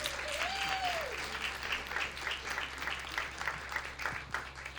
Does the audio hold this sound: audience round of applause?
yes